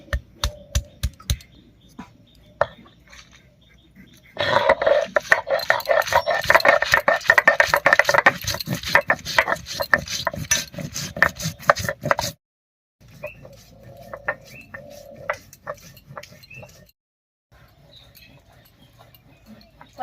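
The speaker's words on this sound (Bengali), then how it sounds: "এখানে আমি চার পাঁচটা শুকনো লঙ্কা আর এক টুকরো আদা নিয়েছি এটাকে প্রথমে বেটে নিচ্ছি" Four or five dried red chillies and a piece of ginger being ground into a paste, heard as close, rhythmic rattling and scraping strokes, densest in one long loud stretch, then softer bursts separated by short pauses.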